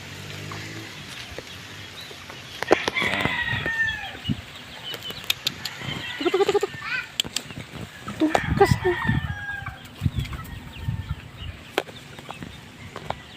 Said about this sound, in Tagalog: Doon ka kay mama, matatakot yung mga manok.